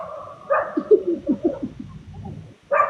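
Woman imitating a dog, producing a run of short, rhythmic yapping barks and whimpering sounds close up, followed by a brief pause and another vocal burst at the end.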